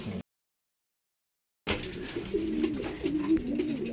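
A racing pigeon arriving home from a race gives soft, repeated cooing calls close by, starting after a brief silence and running steadily to the end.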